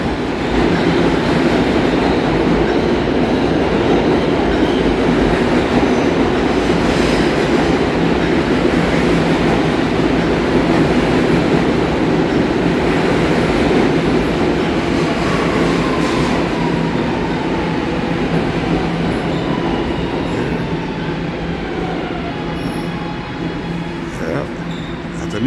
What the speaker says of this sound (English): On the A train.